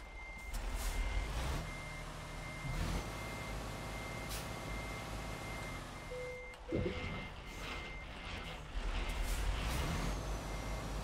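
A truck in the American Truck Simulator video game reverses to reconnect its trailer, sounding steady repeating reversing beeps over a low engine hum, with a sharp air-brake hiss midway and the engine revving again toward the end.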